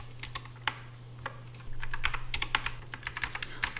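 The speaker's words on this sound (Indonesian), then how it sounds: "Klik di sini, lalu tekan R." Computer keyboard keys are tapped in quick irregular clicks, close up over a steady low electrical hum, with no voices.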